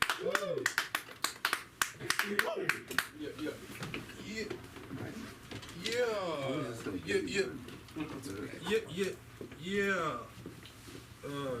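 Open-mic comedy club crowd gives a short burst of scattered, sharp clapping at the start, after which a voice talks at length over a quieter room with occasional light sounds from the audience.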